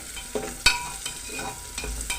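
Carrots and mixed vegetables stirred in a frying pan: a scraping spatula makes repeated uneven strokes over a steady low sizzle, close and fairly loud, with no talking.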